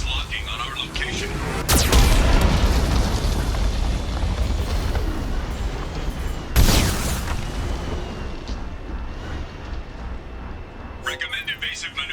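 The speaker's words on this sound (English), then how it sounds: "Geth cannon is locking on our location." Geth cannon blasts in Mass Effect 2 land as two heavy booming explosions a few seconds apart, each with a long rumbling decay over a steady low drone, while a voice speaks in the background.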